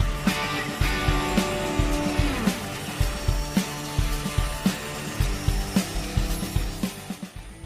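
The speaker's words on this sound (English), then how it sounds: "So as we near the end of our cut, we can walk around the saw" A bandsaw cuts through wood with a steady whirring drone punctuated by regular sharp clicks, likely from the blade, close and fairly loud, with no talking.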